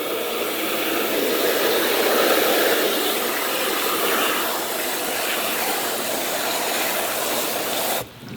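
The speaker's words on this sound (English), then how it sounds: "take the hose and put it right on the block and spray around like this" A garden hose sprays water directly onto a compressed CocoBlox coconut fiber bedding block, producing a continuous broad hiss that runs steadily for several seconds before cutting off abruptly at the end.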